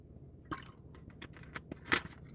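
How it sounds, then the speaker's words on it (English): Quiet, wet gulps and small swallowing sounds close up, a few irregular slurps with a louder one near the end. "You're gonna drink water."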